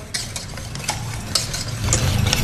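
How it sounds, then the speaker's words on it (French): A spoon or whisk stirs butter into a chocolate passion fruit cream for macarons, giving a steady close scraping and sloshing that grows slightly thicker toward the end, with no voices. "on mélange notre beurre avec le mélange"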